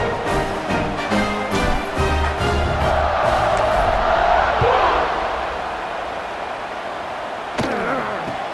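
A packed football stadium crowd roars steadily at an XFL game between St. Louis and Las Vegas, the broad sustained cheer swelling midway before easing, with a sharp thud near the end.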